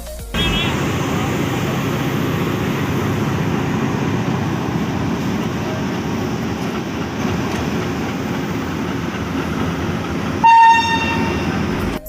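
A passenger train hauled by three H30 diesel locomotives rolls past at Multan Cantonment, Pakistan, a loud, steady rumble of wheels and engines throughout, with a brief high horn toot near the end.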